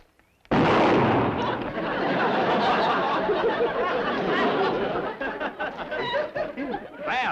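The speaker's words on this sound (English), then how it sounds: "Jethro, you should have put blanks in those guns." Two guns fire in a TV sitcom shootout scene, a loud burst of shots followed by scattered laughter and crackling reactions from an audience.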